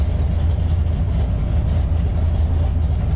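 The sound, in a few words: C4 Corvette engine running on Holley Terminator X tune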